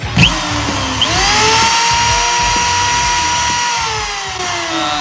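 A handheld power tool spins steadily at full speed with no load, a continuous high whine holding close and loud for the whole stretch, rising slightly at the start and easing toward the end.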